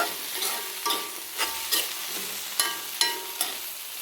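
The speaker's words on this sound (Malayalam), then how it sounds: "നമുക്കിത് തുറക്കാം ഇളക്കി നോക്കുക" Papaya stir-fry (mezhukkupuratti) being stirred in a pan, with a steady run of scraping and clinking strokes over a soft sizzle, close and fairly loud, no talking.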